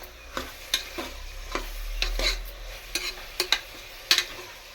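Mutton being stirred in a pan over a high flame for mutton curry, with a steady sizzle under repeated sharp scraping and clacking strokes of the spoon, close and fairly loud, no voices.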